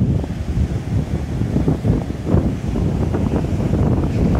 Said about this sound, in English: Right, it's getting windier now.